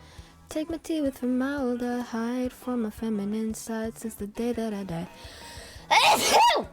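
A person sings a line of lyrics, then a single loud, close sneeze bursts out near the end.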